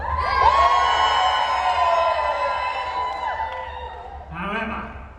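A festival audience at an outdoor show-trial game cheers loudly, a dense mix of whoops, shouts and children's high yells rising together and holding for several seconds before fading, then a brief second burst near the end.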